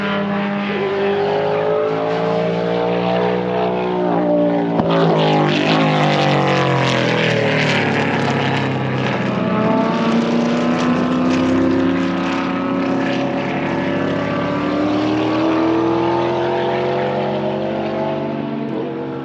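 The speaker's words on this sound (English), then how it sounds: "There's some cars out on the track" Race cars lapping the Eagles Canyon Raceway track, loud engines droning continuously with rising and falling pitch as several cars pass close by, some overlapping each other.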